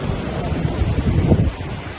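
Waves wash onto a Koh Larn beach near Pattaya on a windy, crowded day, a close, loud surge of surf with wind buffeting the microphone in uneven gusts.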